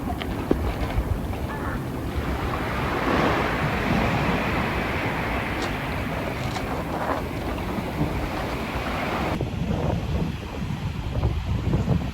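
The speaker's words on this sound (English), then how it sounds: "The ocean is there." Ocean waves wash against a rocky shore in a steady, close surging rumble, with wind buffeting the microphone throughout and no one speaking.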